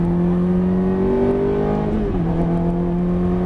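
A Ferrari F430 engine under throttle on a track, a loud, close, continuous engine tone that climbs and then steps down in pitch as it shifts, with no talk.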